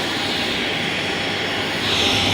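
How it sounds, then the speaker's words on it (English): A Bombardier Challenger business jet taxis nearby, its steady broadband engine whine and roar holding loud and even before swelling slightly near the end, with no voices. "Look what's rolling up right here, a little Challenger."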